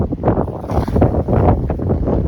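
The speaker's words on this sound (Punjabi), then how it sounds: "ਹਵਾ ਦੀ ਆਵਾਜ਼ ਵੀ ਆ ਰਹੀ ਹੈ" Strong, dusty wind in Punjab buffets the microphone in loud, uneven gusts, a close, rumbling roar with no speech.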